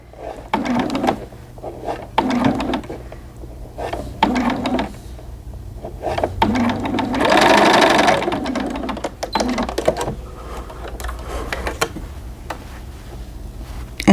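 A sewing machine runs in short bursts of rapid stitching along a curved quarter-inch seam on a doll's trouser front piece, close and clear, pausing between runs with one longer steady stretch midway.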